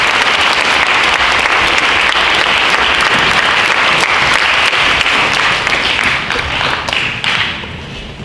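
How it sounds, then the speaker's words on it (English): A school audience at a Schools to Watch 2019 event applauds loudly, a dense wash of clapping that holds steady for about seven seconds and then begins to thin and fade. "So give yourselves a round of applause for that."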